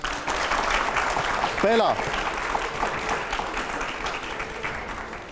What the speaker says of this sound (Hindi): हर सवाल पे तालियां जरूर होनी चाहिए, जवाब पे बल्कि।